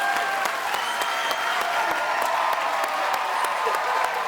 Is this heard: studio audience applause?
yes